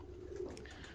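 Domestic pigeons coo softly in a short, faint low call, close by in a quiet coop setting.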